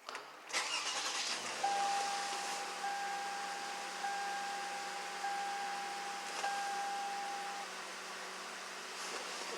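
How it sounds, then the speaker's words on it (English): A 2006 Lexus RX330 engine cranks and starts, then settles into a steady, quiet idle with a dashboard chime beeping repeatedly over it. "Let me cut the car off and then cut it back on."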